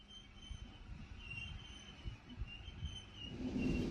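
Night train Lovćen rolling along a mountain line between Belgrade and Bar, a low continuous rumble of wheels on rails with faint rhythmic knocks, building louder toward the end.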